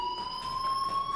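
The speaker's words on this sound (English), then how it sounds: "do you hear that fire alarm?" A school fire alarm in the video game Life Is Strange rings as a steady, piercing electronic tone, continuous and fairly loud, with no talking over it.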